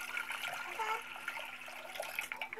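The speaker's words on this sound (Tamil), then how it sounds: "இதில் வந்துட்டு கொஞ்சமாக தண்ணி சேர்த்துக்கலாம்." A little water goes into a heated cooking pot while fenugreek kali is being made. It gives a faint, soft trickling hiss that lasts a couple of seconds with no talking.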